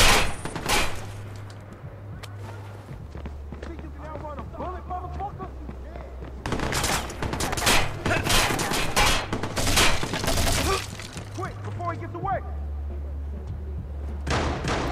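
Gunfire in the video game Watch Dogs: scattered bursts of shots crackle in clusters over a low steady drone, with denser volleys near the middle of the stretch.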